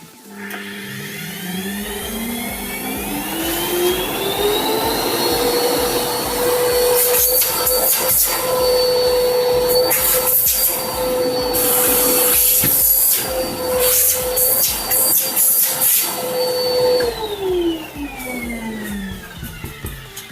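A repaired Samsung SC4330 vacuum cleaner motor spins up with a rising whine, runs steadily and loudly for about fifteen seconds with some fluctuating airflow noise, then winds down.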